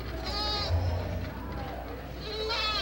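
A nanny goat bleats twice, first a short wavering bleat, then another near the end, heard outdoors with a person's voice mixed in at an interpretive center event.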